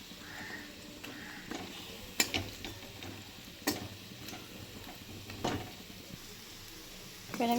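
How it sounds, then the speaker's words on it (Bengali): Bengali banana flower pakoras frying in hot oil, a steady soft sizzle with occasional sharp ticks and scrapes as they are stirred and lifted, close by and with no talking. "আওয়াজ শুনেই বুঝতে পারছেন কতটা মজমজে হয়েছে।"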